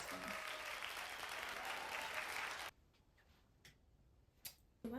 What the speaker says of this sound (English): Clap hands for me now.